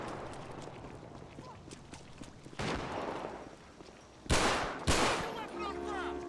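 Gunfire erupts during a night police patrol in GTA 5: a few loud, separate shots crack out over a rumbling ambience, the last two coming close together.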